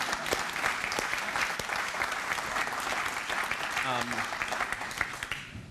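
Audience applause at a retirement party, a steady wash of many hands clapping throughout, with a brief voice near the end as it fades.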